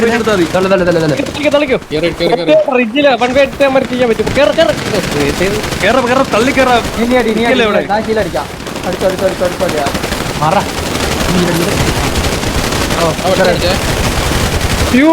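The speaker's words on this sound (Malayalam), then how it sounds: "വെടിവെച്ചുകൊണ്ട് കേറിക്കോളെ" Rapid automatic gunfire bursts and single shots rattle continuously through a competitive tournament match of a shooting video game, loud and dense, with excited players talking over the action.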